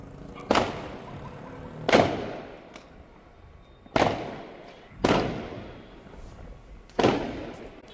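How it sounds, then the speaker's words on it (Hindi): Firecrackers bursting at a celebration around a golden sandstone fort, five loud sharp bangs spaced about one to two seconds apart, each with a short echoing tail, no voices. "सोनार दुर्ग सहित कई जगहों पर पटाखे छोड़कर जश्न मनाया गया।"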